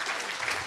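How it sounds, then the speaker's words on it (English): Studio audience at a newlywed couples game show breaks into steady applause, a dense wash of clapping held at even loudness for the whole brief moment. "how about a round of applause for 4 brilliant couples, great sports, each and every one of them"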